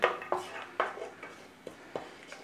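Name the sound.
stirring fennel seeds and star anise in oil in pan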